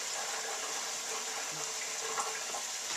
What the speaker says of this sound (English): I'm going to drain the beans. I have a colander in the sink.